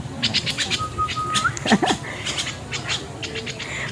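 Pet birds kept at home call out with a run of short, sharp chirps and squawks, close by and fairly loud over a soft room background.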